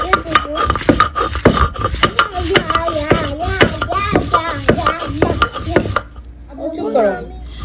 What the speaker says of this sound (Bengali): এখন এই সবগুলোকে পাটায় পিষে নিব।